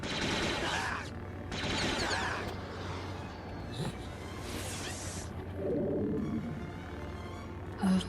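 Rapid gunfire from the Star Wars Jedi Knight: Jedi Academy video game comes in sustained bursts with short gaps between them, sitting up front in the mix over a game soundscape.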